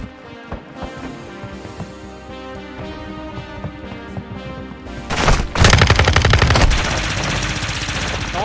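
Automatic gunfire in Modern Warfare 2: an intense burst of rapid shots erupts partway through, loud and close, amid ongoing game sound and scattered bursts.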